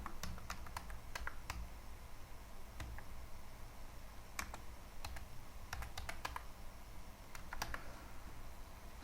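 Keystrokes on a computer keyboard while a command is entered on a Windows PC: irregular, quiet clicks in short bursts and isolated taps over a soft background hum.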